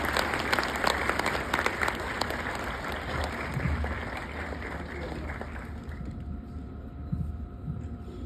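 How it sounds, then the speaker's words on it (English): An auditorium audience claps steadily at a university golden jubilee science talk in Hyderabad, a dense sustained patter that fades out near the end as a speaker's voice begins. "Please applaud"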